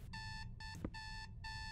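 A video game alarm clock in the horror game Is Simon There rings with loud, evenly spaced electronic beeping bursts, four pulses repeating in a steady rhythm over a faint background hum.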